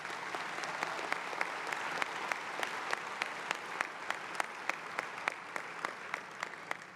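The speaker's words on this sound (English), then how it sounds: "this is a time to give a round of applause to the patients and families that are here" Audience at a pediatric cardiology congress opening ceremony applauds for patients and families. Soft, sustained clapping fills a large hall, with a few sharper nearby claps standing out.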